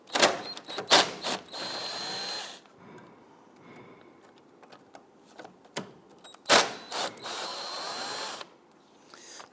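Bolts on the headlight mounting bracket of a 2008-2013 Infiniti G37 are loosened with a power tool, sharp whirring bursts at the start and again later, with quieter clicks and handling noises between them.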